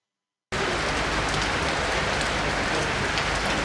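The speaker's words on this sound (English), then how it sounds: "was out in the rain" Rain pours steadily in Nigeria, a dense, even hiss of drops on surfaces that starts abruptly after a brief silence and continues unbroken, with no voices.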